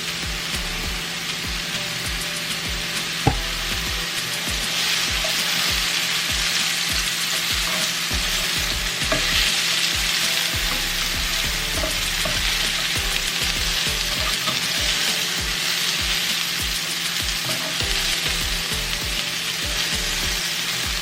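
Sweet potato and mushrooms fry in oil, a steady loud close sizzle that stays even for the whole stretch, with a single sharp knock early on and no voices.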